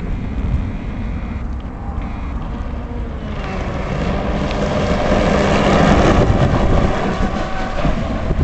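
A 48-inch GFreak 1/8-scale brushless RC hydro boat runs on open water, its high-pitched electric whine and spray rising steadily louder and nearer across the clip, with no talk over it.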